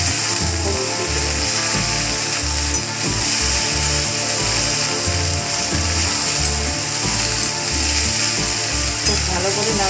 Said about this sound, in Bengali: খুব ভালো করে নাড়াচাড়া করে এটাকে ফ্রাই করে দিতে হবে।